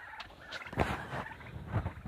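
Geese and a duck call out in a backyard with a few rough honking squawks spaced apart. The calls are fairly faint against a quiet outdoor background.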